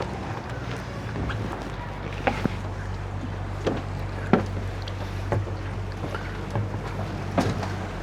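A private boat motors back toward Sai Kung across open water in Hong Kong, a steady low engine drone with wind and splashing hull noise, while someone talks over it.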